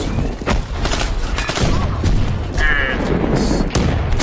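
A grenade launcher fires in a Black Ops multiplayer beta match, a dense run of booming blasts and gunfire with scattered thuds and explosions, loud and close throughout, with no talking over the combat.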